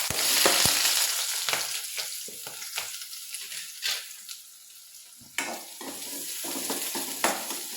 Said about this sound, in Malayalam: ഇനി നല്ലപോലെ വഴറ്റി.